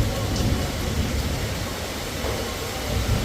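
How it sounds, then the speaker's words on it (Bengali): Heavy, steady rain pours down with deep rumbling thunder rolling underneath, a dense continuous wash of sound with no voices. "বৃষ্টিও পড়ছে একদম ঘোর হয়ে বৃষ্টি শুরু হয়ে গেল"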